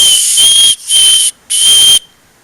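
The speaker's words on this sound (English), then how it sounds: "The second thing about this knife is the whistle on the back." A small whistle built into the back of a Web-tex Steel of Fire survival knife shrills in three sharp, loud blasts, the last cut off abruptly, with nothing else heard.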